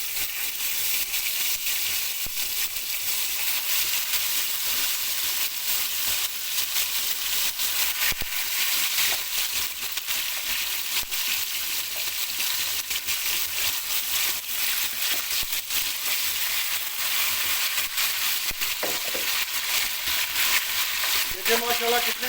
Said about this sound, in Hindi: तो अब हम इसमें साग डालेंगे।